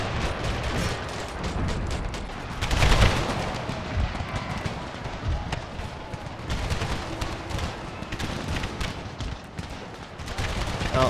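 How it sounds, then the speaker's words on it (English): Artillery barrages in an Empire: Total War mod battle, gun reports and booms scattered through a dense, continuous wash of battle noise, with a heavier blast near the third second. "All artillery, focus fire on the Gatling gun"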